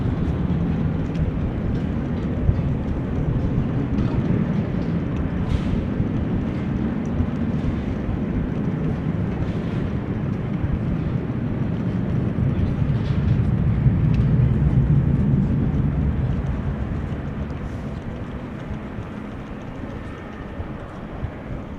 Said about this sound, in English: KLM 777 on the move.